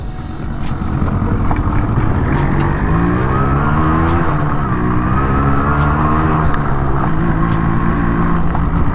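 A Yamaha RX-135 two-stroke 135cc five-speed motorcycle with a 20-year-old gearbox being ridden, its loud, close engine droning steadily and rising and falling in pitch with the throttle, with no voices.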